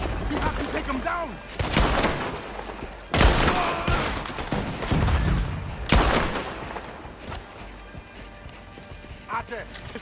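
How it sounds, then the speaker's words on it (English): Bursts of gunfire in the video game Red Dead Redemption 2 crack out several times, mixed with galloping hoofbeats and shouting voices. "He's shooting!"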